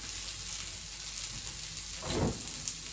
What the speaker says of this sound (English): At the same time that I am frying the pancakes or fritters